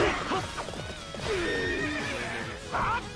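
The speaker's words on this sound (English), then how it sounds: "Alright, off the horse." A horse in the Warriors Orochi 3 battle game gives loud, close whinnies and neighs, with repeated clip-clop hooves and game effects mixed in.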